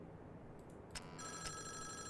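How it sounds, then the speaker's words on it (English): Telephone rings inside the horror video game Five Nights at Wario's, set in a factory night-guard office: a faint electronic bell bursts twice, then sustains as a buzzing ring over low background hum. "Ah, we got a phone call."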